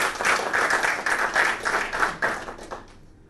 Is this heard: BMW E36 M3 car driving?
no